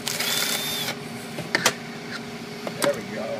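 A power drill bores through a Droid Bionic smartphone, starting with a short, high motor whine and followed by sharp clicks and scraping knocks close up, with faint voices in the background.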